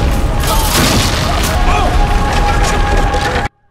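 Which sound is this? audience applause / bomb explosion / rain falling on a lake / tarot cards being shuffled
bomb explosion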